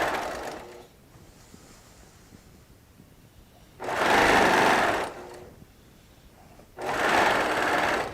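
Sewing machine stay stitching around the edge of a quilt made from Tula Pink charms and strips, two close bursts of rapid stitching of about a second each, separated by quiet pauses, with a faint start at the opening.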